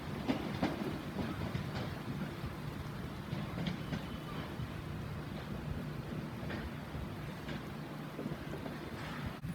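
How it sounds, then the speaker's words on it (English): A diesel train arriving at a station platform in Eastbourne, a steady rumbling engine drone with rail clatter and faint clicks continuing throughout at moderate distance, no voices. "The train now arriving into platform 1 is the 1500 Southern service from Orr to London Victoria."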